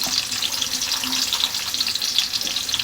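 Onions frying in hot oil in a pan while cooking biryani, a steady crackling sizzle with hissing pops, moderately close and continuous throughout.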